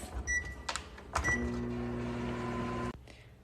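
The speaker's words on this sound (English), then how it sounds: "Put it in the microwave, and we're gonna put it for 60 seconds." A couple of sharp keypad beeps, then a microwave oven starts with a steady low electric hum that runs for a couple of seconds before cutting off abruptly.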